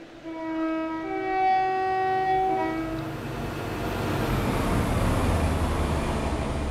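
A British Rail Class 170 diesel train in the Train Sim World game on the Fife Circle Line sounds a tonal horn, then a steady engine drone and rail rumble swell and carry on alone.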